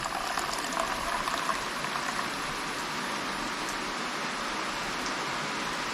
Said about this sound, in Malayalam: കുമ്മായം കലക്കി വെച്ച വെള്ളം അതിൻ്റെ തെളി മാത്രമാണ് ആ മുകളിലുള്ള വെള്ളം മാത്രമാണ് നമ്മളിതിലേക്ക് ഒഴിക്കുന്നത്